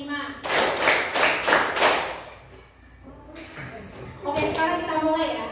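A group plays a counting clap game, giving a burst of several quick hand claps, a short pause, then another run of claps, close by, with voices mixed in.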